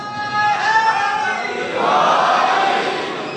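A crowd at a Muharram majlis gathering chants a religious slogan together, a sustained, loud collective roar of many voices rising and swelling across the whole stretch, with no single speaker standing out.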